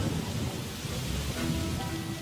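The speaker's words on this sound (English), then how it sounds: "it started to rain" Steady rain falling on a surface, a dense continuous hiss with low rumbling like distant thunder, even and unbroken throughout with no voices.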